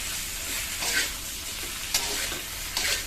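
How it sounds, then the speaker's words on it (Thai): Shiitake mushrooms tossed with soy seasoning in a pan, a few scraping toss strokes over a continuous hissing sizzle, close and moderately loud. "ใส่มาลงไปเสร็จก็คลุกคลุกคลุกครับ"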